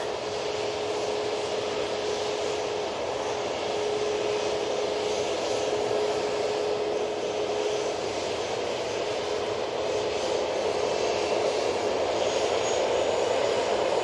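A TUI Boeing 737-800 pushes back at Manchester Airport before its flight to Gran Canaria, giving a steady, even hum of engines and broadband noise with a faint tonal whine throughout and no talk.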